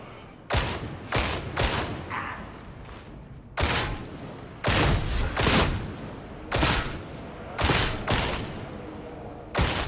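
Gunfire from a gun in Warhammer Online, a series of loud, close bursts in clusters of two or three with short pauses between, alone with no talk.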